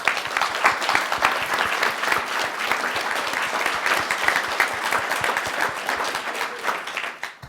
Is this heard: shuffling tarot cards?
no